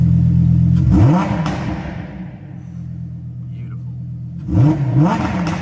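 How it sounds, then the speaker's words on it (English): A 2024 Lamborghini Huracan Technica in Sport mode blips its engine twice, sharp revs rising and falling at start and end with a lower idle rumble between, and someone speaks over it. "if we change this to Sport, straight away you can hear the tone change"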